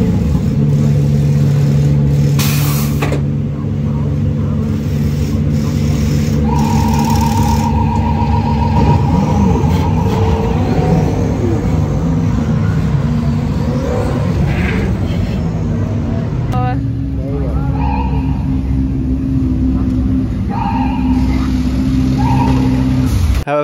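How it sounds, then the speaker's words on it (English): Loud, steady engine roar from several race cars idling and revving together at the Nürburgring before qualifying, with deep rumbling tones and brief higher whines throughout. "as we fired up the engines and got ready to start qualifying."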